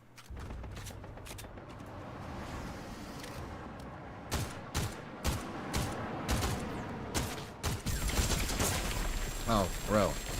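Scattered video game gunshots pop in quick clusters, moderately loud against busy game noise, with a voice talking intermittently.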